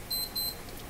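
Electronic beeping from test equipment on the bench while measuring tube voltages on a Moffat Crosley G2465 five-tube radio: two short high-pitched beeps in quick succession, faint and clean, with no talk.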